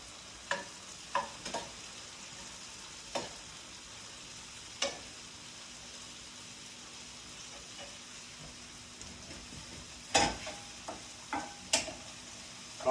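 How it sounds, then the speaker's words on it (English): Mushrooms and garlic are stirred as they fry in a pan for risotto, a soft steady sizzle punctuated by scattered close scrapes and clicks of a utensil with no talking. "Move our mushrooms around a little bit."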